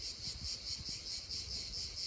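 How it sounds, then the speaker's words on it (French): Cicadas sing in a pine-covered coastal massif at Cap Garonne in the Var, near the sea, making a dense, continuous pulsing buzz that is close and steady, with no voices. "cette fois-ci, t'entends le chant des cigales"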